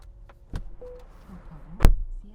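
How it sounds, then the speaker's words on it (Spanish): A few soft mechanical clicks, then one sharp, solid thump of a Chinese car's door shutting close by, followed by quiet. "Cómo suena el cierre de las puertas, es espectacular"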